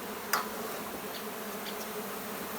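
A honey bee swarm is being captured, with many bees buzzing in a steady, close drone and a sharp brief click early on.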